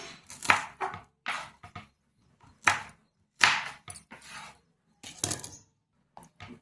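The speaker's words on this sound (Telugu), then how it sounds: "ఇప్పుడు పచ్చిమిర్చి కోసుకుందాం" A knife chops green chillies on a board in a village kitchen. The sharp, close cuts come in short irregular clusters with brief quiet gaps between them.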